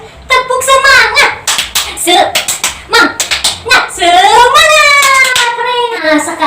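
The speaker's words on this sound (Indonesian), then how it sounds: "Kita tepuk semangat ya. Mulai 1, 2, 3. Tepuk semangat." Children chant a rhythmic 'tepuk semangat' clapping routine in a classroom, with sharp, loud claps in quick patterned bursts alternating with sung chanting voices.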